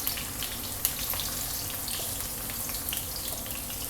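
Garlic, about four cloves, sautéing in roughly three spoons of hot oil as a fish dish gets underway, giving a steady close sizzle with faint crackles and a small clink near the start.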